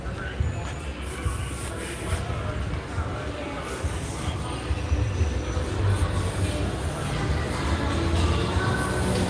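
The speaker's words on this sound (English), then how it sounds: "Next, the partying train. The Wildlife Express to Conservation Station." The Wildlife Express train at Disney's Animal Kingdom rumbles steadily along the rails, its wheel and carriage noise building slightly louder toward the end, with a crowd murmuring and faint voices around it.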